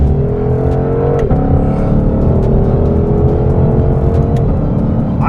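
A Shelby Mustang GT500's engine roars loud and close, pitch rising and falling as it revs and accelerates, with a steady whirring drone throughout.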